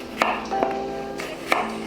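A knife slices the skin off a halved watermelon, with several sharp cutting strokes spaced irregularly, close and clear with no talk.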